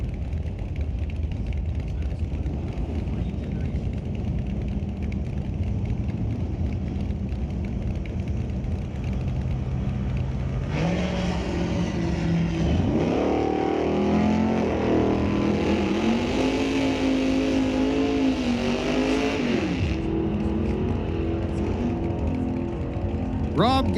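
Drag racing cars at Mission Raceway, including a 1970 Chevelle convertible, roar down the strip with a rising, revving engine note that swells loud midway, over a steady crowd and announcer murmur.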